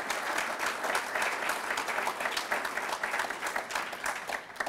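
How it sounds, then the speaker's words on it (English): Audience applause for the police chief at a mayor's State of the City address in Brookhaven, Georgia, an even and sustained wash of many hands clapping from a moderate distance. "It's easy to get applause when you talk about the police in Brookhaven"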